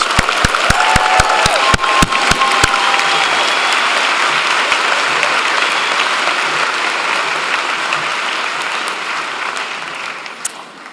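Applause for award winners at a naturopathic medicine convocation, beginning with a few sharp individual claps that quickly swell into sustained audience clapping, which holds steady and then gradually fades.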